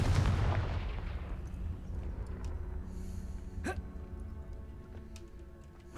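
Confringo fire spell blast in Hogwarts Legacy, a loud booming burst at the start that rolls off into a long fading rumble, followed later by a couple of faint crackles and clicks.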